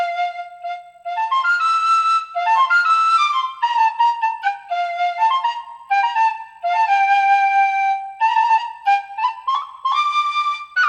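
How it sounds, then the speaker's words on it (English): A folk whistle plays a bright, lively melody alone for several seconds, with quick ornamented notes and brief pauses between phrases. "this is just the folk whistle"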